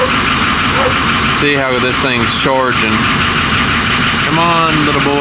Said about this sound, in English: the truck seems to be idling a lot smoother right now.